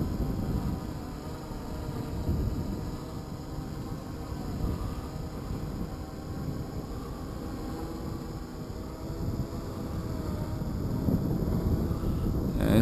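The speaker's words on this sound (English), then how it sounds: "And it's getting too windy." Wind gusts buffet the microphone outdoors during a Fyetech Scorpion Y6 hexacopter test flight, a steady rumbling roar swelling and easing, with a faint high whine from the rotors above it.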